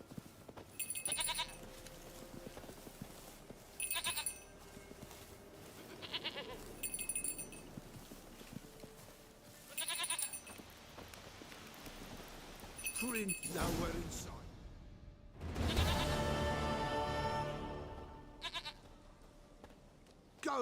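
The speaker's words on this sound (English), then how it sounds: "Goat of mine, dearest," A goat in The Witcher 3 gives several short, bright bleats spaced a few seconds apart, with a voice talking in between and over a quiet game background.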